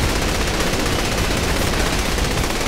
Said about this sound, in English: Good shooting, boss.